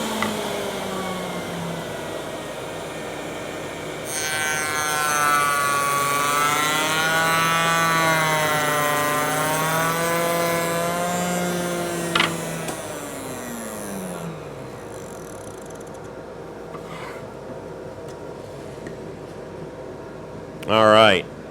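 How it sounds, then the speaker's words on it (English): A dust collector and woodworking saw run during a test cut on a bathroom vanity door or drawer front: a steady loud roar with a rising, wavering whine as the blade cuts, then a tail-off and a brief knock near the end. "get the dust collector turned on, and let's make a test cut."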